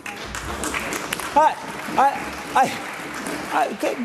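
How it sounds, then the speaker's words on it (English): Scattered clapping from members in the Scottish Parliament chamber, heard in brief bursts under someone speaking loudly over it. "I don't know why you were all applauding that"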